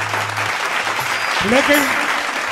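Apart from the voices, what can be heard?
audience applause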